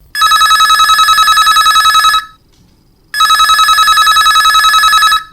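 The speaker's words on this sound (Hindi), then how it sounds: "तो संगियो चला उठाई ये पहली फोन ला" A telephone rings loudly for a caller phoning in to a Chhattisgarhi folk song request radio program, two long electronic ringing bursts separated by a short pause.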